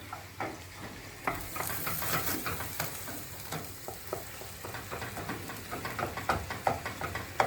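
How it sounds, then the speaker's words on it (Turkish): Tomatoes stirred and sautéed in a hot pan, with a steady sizzle broken by repeated scraping strokes of the spoon throughout, fairly close and alone. "İyice kavurun domatesi."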